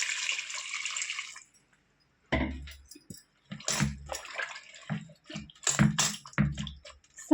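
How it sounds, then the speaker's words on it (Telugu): Water is poured into a pot of goat head curry in a steady stream for over a second, followed by clanks and clatter of the pot and utensils. "కొంచెం వాటర్ పోసుకొని ఉడకబెట్టేసుకుందామండి."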